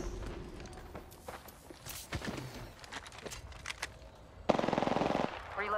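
Bursts of rapid gunfire from a battle royale video game, scattered shots early, then a sustained loud automatic burst near the end, with footstep-like sounds between.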